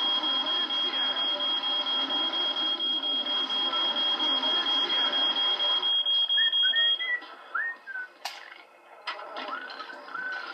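A fire alarm in The Sims GameCube game beeps in a rapid, even high-pitched pulse for several seconds, then stops, leaving scattered chirpy game sounds behind.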